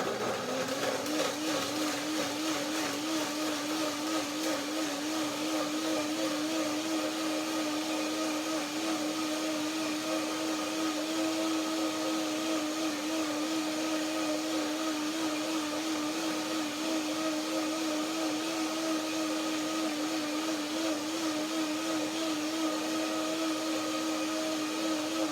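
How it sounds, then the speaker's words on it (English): A blender whirs loudly and steadily at close range for a long stretch, blending dates with about half a cup of water into a mousse, with no talk over it. "Blender dance number 2."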